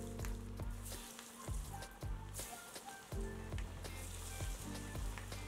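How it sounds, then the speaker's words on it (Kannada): Masala vade (ambode) balls frying in hot oil make a steady crackling sizzle that runs throughout at close range, with no talking. "ಎಲ್ಲವನ್ನು ಉಂಡೆ ಮಾಡ್ಕೊಂಡಿರೋದು ಈಗ ಕರಿಯೋಣ."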